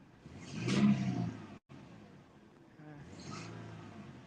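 Engine of a base Porsche Panamera at an auto auction, a short rev rising and falling nearby, then a second milder swell, with people talking around it.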